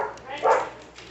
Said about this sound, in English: dogs are being a little bit annoying